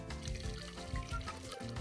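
Hot cream of onion soup pours steadily into a clay pot, making a continuous, soft liquid gurgle and trickle at close range with no break.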